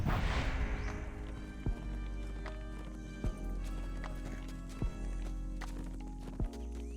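Hooves of a horse galloping in The Lord of the Rings Online, a steady looping clip-clop with regular heavier thuds about every second and a half over a low sustained game soundscape.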